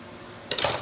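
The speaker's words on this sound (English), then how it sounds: "I'm just going to cut it" Scissors snip once through a sheet of Tyvek to cut a fringe, a short, crisp, close cutting crackle after a quiet pause.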